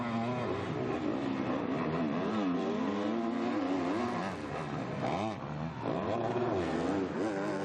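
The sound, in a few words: motocross bikes racing, Yamaha and Husqvarna EMX 250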